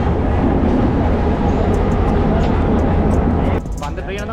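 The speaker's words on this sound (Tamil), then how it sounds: "இந்த பாருங்கள், ஒரு ட்ரெயின் ஒன்று வருது." A train on a Sri Lankan railway rumbles past loudly and steadily, close by, and the roar shifts in tone near the end under a speaking voice.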